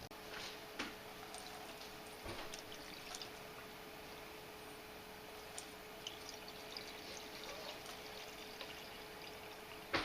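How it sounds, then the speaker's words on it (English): Liquid pours quietly from an Ideus insulated pour-over coffee and tea flask in a steady faint trickle with a few small drips and clinks, at low level throughout. "It starts and stops pouring relatively controllably."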